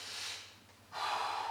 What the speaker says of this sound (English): keep breathing, breathing nice and deep in through your nose and out through your mouth